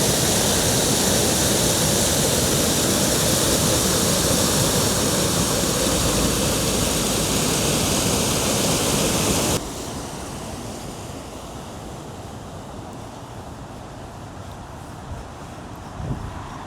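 Floodwater pours over Beeston Weir on the flooded River Trent, a loud, continuous roaring rush like a waterfall that drops suddenly to a softer, steadier wash partway through, with a faint bump near the end.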